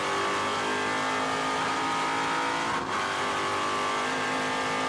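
Trans Am TA2 race car at WeatherTech Raceway Laguna Seca, its engine blaring loud and steady as it downshifts into a corner, with a brief dip near the middle of the clip.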